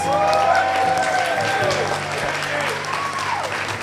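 Wedding guests applaud the venue staff in a steady wash of clapping that runs the full length, with music or singing tones gliding above it and some voices mixed in.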